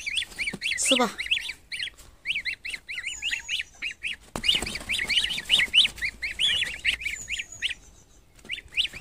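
Ducks and chickens kept at a rural home call while being fed, a busy run of repeated chirps and quacking calls close by, with a brief spoken voice early on and scattered rustling.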